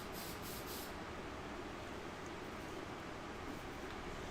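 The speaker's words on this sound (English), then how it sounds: "what I'm doing now is I'm just getting some multi-purpose spray adhesive" Multi-purpose spray adhesive hisses out of an aerosol can in one continuous, close, fairly quiet spray, used while customizing a phone case.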